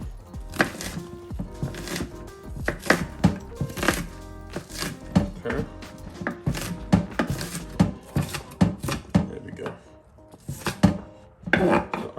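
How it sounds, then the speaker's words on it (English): A knife chops pork sausage on a board in irregular bursts of sharp, close knocks, with a few short pauses between runs. Nobody speaks. "I'm just gonna chop it from there."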